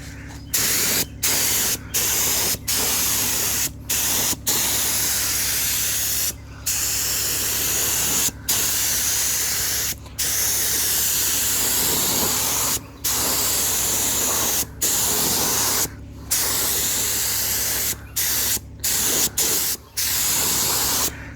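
Primer sprayed on heavily over a Dodge dash mantel, a loud continuous aerosol hiss broken by many brief pauses between bursts, with no talk.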